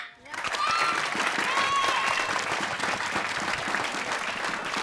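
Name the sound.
audience applause to choose the winner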